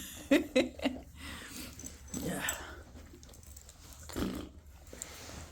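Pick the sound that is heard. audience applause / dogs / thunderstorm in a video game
dogs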